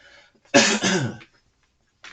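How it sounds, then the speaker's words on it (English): A single person coughs once in a short harsh burst, then goes quiet, close and clear indoors with nothing else around it. "Sorry for the coughs and sneezes."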